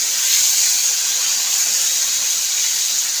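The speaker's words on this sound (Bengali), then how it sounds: "মাছটা একটু ভাজা হোক।" Fish pieces, all added together to a pan of oil and lightly fried for amodi macher jhal, crackle and hiss steadily up close, a dense continuous sizzle with no pauses or voices.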